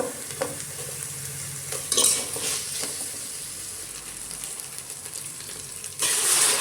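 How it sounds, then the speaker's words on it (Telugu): Curry leaves, mint and coriander fry in a pan for bagara rice, with a steady sizzle and several scraping stirs and clinks against the pan, and a louder burst of frying near the end. "కరివేపాకు, పుదీనా, కొత్తిమీర ఇవన్నీ మంచిగా కలిపి ఫ్రై అయిన తర్వాత"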